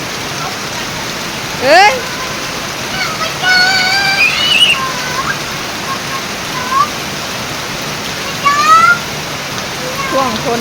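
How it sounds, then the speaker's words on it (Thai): Steady afternoon rain falls after a hot spell, a continuous wash of patter filling the background, while a voice speaks briefly and a few short chirping sounds rise over it. "ช่วงฝนตก เย็นสบายขึ้นมาอยู่นิดนึง"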